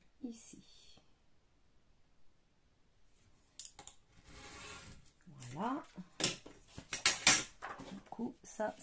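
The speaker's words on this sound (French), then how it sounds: "Donc, je vais commencer par couper ce côté-là." Paper for a mini album being cut, heard as soft snips and scraping mixed with clicks and a few louder handling sounds, with quiet, whispery talk.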